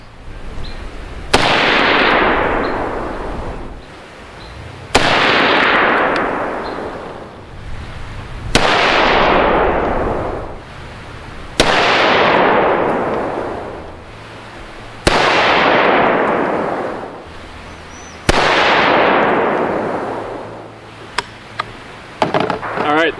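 Six loud rifle shots from a Century Arms C308 loaded with heavier bullets, fired one at a time a few seconds apart, each a sharp crack trailing off into a long outdoor echo.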